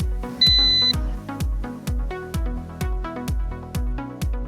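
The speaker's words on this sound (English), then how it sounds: "Rotate horizontally clockwise to hear a beep." A single clear electronic beep from an S18 GPS drone during compass calibration sounds near the start, ringing for about half a second over a steady, rhythmic musical backing.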